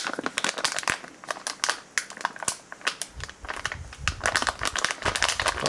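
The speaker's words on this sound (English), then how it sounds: "Hold it over a few times and shake it up" Plastic-foil MRE pouch of Apple Maple Oatmeal from a Meal Kit Supply Menu 9 ration crinkles and crackles in dense, rapid bursts as it is flipped and shaken with water inside, loud and close, with no talking.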